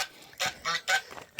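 Geese honking in several loud bursts, a few calls close together with short pauses between, nearby and outdoors.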